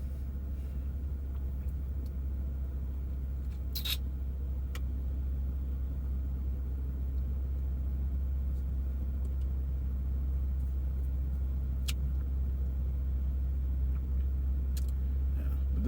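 A Toyota Supra is heard from inside the cabin while driving, with a steady low engine and road rumble and a few faint clicks and ticks, no talking.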